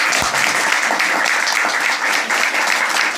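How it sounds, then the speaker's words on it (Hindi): Loud, steady applause from an audience at a business meeting, honouring members who earned beginner pins; dense clapping fills the whole stretch with no break. "एक बार इनों के लिए जबरदस्त तालियां होनी चाहिए।"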